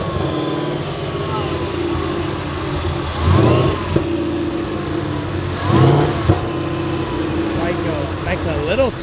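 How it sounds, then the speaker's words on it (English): A car at the Automotion 2022 show, hood open, idles steadily and then gives two sharp, loud revs that surge and drop back. People talk nearby throughout. "I'm gonna open the hood and rev it and see if it whines."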